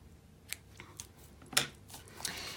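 Scissors snip through ribbon tails on a gift card box insert, giving a few quiet, separate crisp cuts. The sharpest cut lands near the middle, with faint rustling between cuts.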